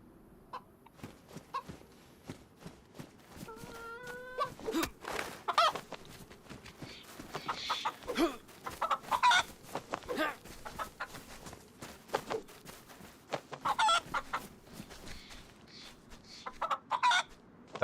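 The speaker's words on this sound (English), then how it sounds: "I hear you, Mr. Chicken." A chicken in the DayZ video game clucks repeatedly at irregular intervals, fairly faint against a quiet background, with a short rising crow-like call among the clucks.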